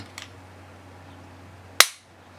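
A Glock pistol trigger is pulled once, giving a single sharp, close snap that dies away quickly. A faint click comes just before it, with quiet room hum throughout.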